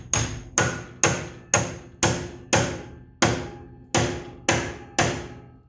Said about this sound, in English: you got to hit it really hard with a hammer